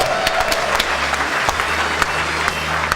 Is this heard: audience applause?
yes